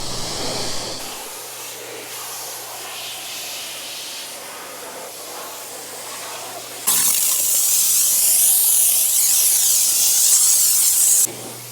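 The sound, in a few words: pressure washer spraying car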